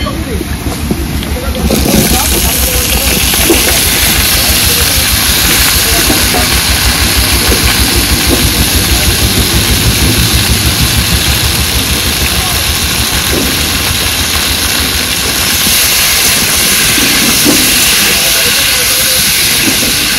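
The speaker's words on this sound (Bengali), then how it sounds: "কলা আলু ভালো করে ভেজে নিলাম" Green plantain and potato pieces fry in hot oil in a pan, giving a loud, steady sizzling hiss that runs throughout, with a voice talking over it at times.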